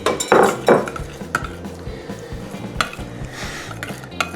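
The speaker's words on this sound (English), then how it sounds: "And then we're just going to mix it with the spoon." Veggie dog biscuit dough being mixed with a spoon in a bowl, close and fairly loud, with repeated clinks and knocks of the spoon against the bowl over soft scraping.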